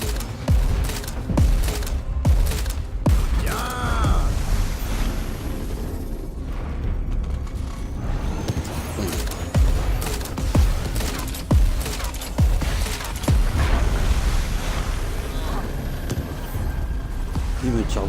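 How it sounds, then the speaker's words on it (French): Gunfire and booming blasts from the video game Crackdown 3, with repeated sharp shots and bursts under steady game noise and loud effects throughout. "Il me tire dessus."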